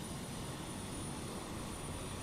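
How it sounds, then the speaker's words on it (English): Helicopter landing for a Manhattan to JFK airport shuttle, a loud, steady roar of engine and rotor wash filling the air close by, with a thin high whine above it and no voices. "the helicopter is literally landing"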